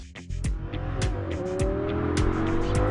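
An Audi R8 engine accelerating, its tone climbing steadily through several rising sweeps, with sharp clicks or gear changes between them, recorded close and fairly quiet, no talk.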